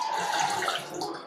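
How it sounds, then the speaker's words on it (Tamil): Water poured over mutton in a cooking pot for curry, a short close splashing stream lasting just over a second, steady and moderately loud. "முங்குற அளவுக்கு தண்ணி"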